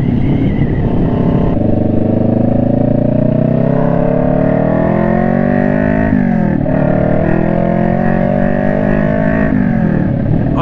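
Motorcycle engine running steadily while riding over rough, badly maintained city roads in Kansas City, Missouri, its harmonic drone loud and close, rising and falling slightly in pitch as the bike changes speed, with no talking.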